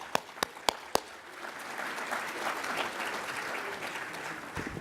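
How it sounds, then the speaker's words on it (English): An audience at a community service awards ceremony gives a round of applause, opening with a few loud separate claps before a steady, sustained wash of clapping from the crowd. "They deserve your best round of applause."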